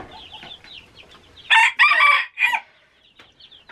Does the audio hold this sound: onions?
no